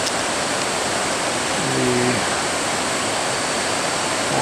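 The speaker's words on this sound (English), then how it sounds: "You can hear the sound of the river" A river rushes steadily near a waterfall, a broad, continuous roar of flowing water with a brief low tonal sound midway and a voice faintly present.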